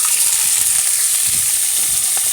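Beef fat frying in a small amount of oil, a steady close sizzle with soft crackles running throughout, no voices.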